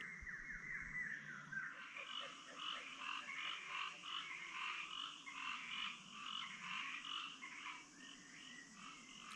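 Frogs and toads croak at night in Thai forest by a stream, a dense, continuous chorus of rapid overlapping calls filling the whole stretch, steady and fairly near, with no voices.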